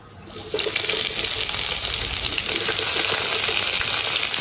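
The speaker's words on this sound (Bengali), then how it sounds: "পেঁয়াজ কুচিটা দিয়ে ভালো করে পেঁয়াজ গুলো লাল লাল করে ভাজবো" Chopped onions hit hot oil tempered with nigella seeds and dried red chilies, setting off a sudden loud, close sizzle that holds as a dense, steady crackling hiss.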